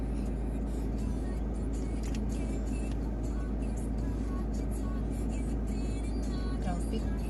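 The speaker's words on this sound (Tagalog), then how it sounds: "Traffic." Continuous road traffic with cars passing in Vermosa, a steady loud rumble of engines and tyres with a voice faintly heard beneath.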